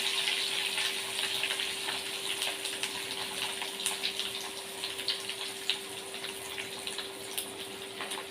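Koramenu fish pieces dropped into hot oil give a steady, dense hiss of frying, close and continuous without pause, with small crackling pops scattered through and no voices.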